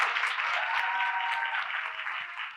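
An audience claps to welcome speakers onto a stage at a diversity talk, a steady wash of applause with faint voices and a few cheers mixed in, holding level before easing slightly.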